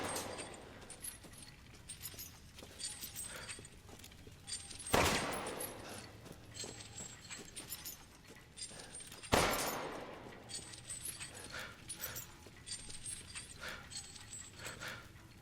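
Gunshots ring out in the survival horror game Resident Evil Village, two sharp loud blasts several seconds apart over a busy background of game ambience and rattling effects.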